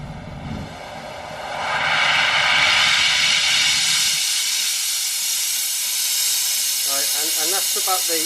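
Oxy-acetylene torch flame roaring as the oxygen is opened up, swelling into a steady loud hiss that holds to the end, with faint clicks near the close.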